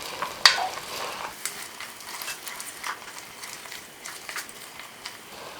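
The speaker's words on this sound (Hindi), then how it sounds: "हरा धनिया, अदरक, हरी मिर्ची का जो हमने पेस्ट पीसा है वो हम इसमें डाल देंगे और इसे पकाएंगे।" Coriander, ginger and green chili paste fries over high heat in a pot for spinach mutton, a quiet sizzle broken by irregular scraping stirs and one sharper clink, no voices.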